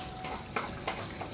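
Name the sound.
water running from a timed tap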